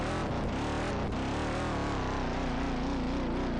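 A car engine in a soft-body physics driving game drones and revs steadily throughout, loud and close, with shifting pitch and no pauses.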